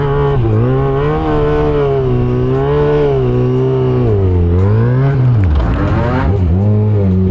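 An XG6 motorcycle at full power with all controls off during a wheelie, loud close engine holding a steady high drone and then dipping and surging twice near the end as the throttle changes.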